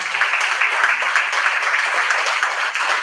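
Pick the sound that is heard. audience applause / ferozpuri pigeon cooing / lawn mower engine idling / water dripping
audience applause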